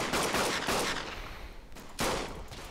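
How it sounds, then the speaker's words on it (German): Sniper rifle shots in the World War I shooter Verdun, heard as three sharp, fairly loud cracks at roughly even intervals, each trailing off into a short rumbling decay. "Egal, ich snipe die weg."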